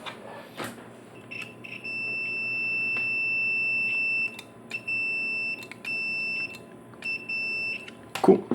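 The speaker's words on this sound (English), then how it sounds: "I'll grab the multimeter and just check continuity across there." A multimeter on continuity test gives a series of sharp electronic beeps, some long and some short, in an irregular rhythm, fairly loud and close, with small handling clicks around them.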